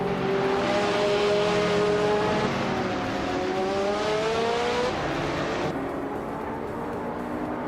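High-pitched engine whine of a 2007 Ferrari F430 GTC race car in a racing video game, revving and climbing through gears in steady rising sweeps, loud and continuous with no talking.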